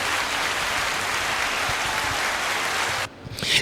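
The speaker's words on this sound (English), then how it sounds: "Clap it up for them." Audience applause, a dense and steady wash of clapping at moderate level that cuts off abruptly near the end, leaving a brief quieter tail.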